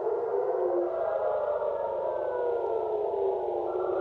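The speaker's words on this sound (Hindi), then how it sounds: "इजराइल के कई सारे शहरों में सायरन की आवाज़ सुनाई दी गई है" Air raid sirens wailing across Israeli cities during an Iranian attack, a loud sustained rising and falling tone that overlaps with other distant sirens, heard alone without voices.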